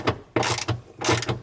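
Ratchet driving an 18 mm deep socket on the rear seatbelt bolts of a Camaro, three short bursts of rapid clicking close up, no talking.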